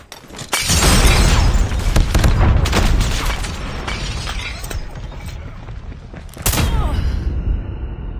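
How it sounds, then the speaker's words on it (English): Grenade blast in Call of Duty, a loud shattering explosion that rolls on with debris and rumble, then a second sharp burst near the end, with no talk. "Grenade!"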